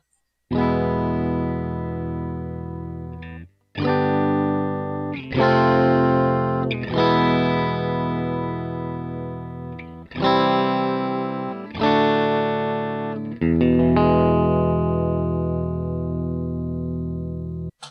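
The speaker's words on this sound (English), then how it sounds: "let's listen to this dry with no effects again" An electric guitar plays a series of sustained, ringing strummed chords with no effects, each chord starting sharply and decaying slowly before the next, with short gaps between.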